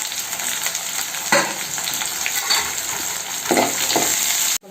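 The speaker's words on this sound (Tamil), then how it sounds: "இப்போ நான் சின்ன வெங்காயத்தை போட்டுக்கிறேன். பூண்டையும் போட்டுறேன். போட்டு நல்லா செவக்க வதக்கணும்." Small onions and garlic sizzle steadily in hot oil, loud and close, with a few louder stirring scrapes breaking through the continuous frying hiss; no speech.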